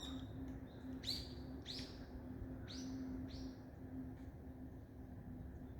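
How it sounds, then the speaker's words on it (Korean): Several birds chirp and tweet in clear, bright bursts over a steady low hum, heard on a hillside neighborhood on the outskirts of Seoul in autumn. "사실 새소리"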